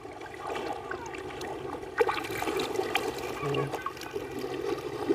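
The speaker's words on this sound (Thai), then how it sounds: "ระวังเด้อน้ำพัดไปเลย" River water rushing and splashing around people on a boat trip in Xepon, a steady moderate wash of flowing water with a sharp splash partway through and voices under it.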